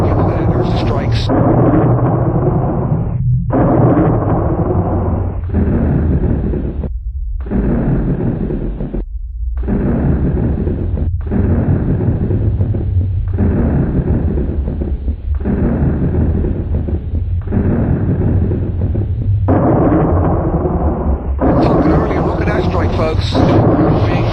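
Thunder from close, repeated lightning strikes during a summer storm rumbles loudly and continuously as deep booms, with someone talking over it throughout.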